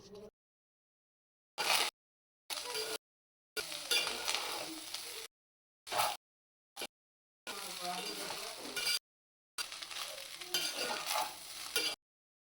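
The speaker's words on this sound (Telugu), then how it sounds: "దాని తర్వాత మనం ముందుగానే ఫ్రై చేసుకున్న ఎగ్ అయితే వేసుకొని బాగా తిప్పుకోవాలి." A pre-fried egg gets stirred into non-veg mixed fried rice in a pan, with short bursts of sizzling and scraping spatula strokes separated by silent gaps, fairly quiet overall.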